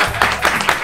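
A short burst of clapping from a radio studio crowd welcoming a samba group, with fairly loud, quick patters over less than a second.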